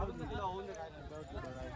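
Hooves clip-clop faintly during a horse ride in Mahabaleshwar, half-buried under people talking close by in a brief, busy moment.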